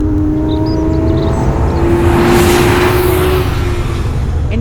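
A Porsche 911 GT3 RS engine on a race track gives a loud, sustained, rising tone as it accelerates past, with broadband roar and a touch of tire noise, fairly close and unaccompanied by voices.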